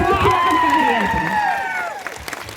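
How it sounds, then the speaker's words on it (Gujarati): Crowd at an Aam Aadmi Party tribal awareness rally in Kawant, a short burst of clapping and cheering with shouts, loud at first and fading out after about two seconds. "જોરદાર તાળી આપણે ફરતી વગાડીએ"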